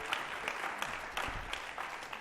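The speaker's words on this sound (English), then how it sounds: "So a round of applause for Reed's efforts for humanity in this current transition in our government." Audience applause at a gathering, a steady wash of many hands clapping with no voices over it.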